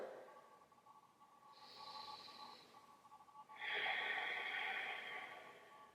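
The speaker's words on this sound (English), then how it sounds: "Continuing that Ujjayi breath as you move." Slow ocean-like Ujjayi breaths during a standing yoga flow, a softer hissing inhale followed by a louder, longer throaty exhale, close to the microphone with no talking.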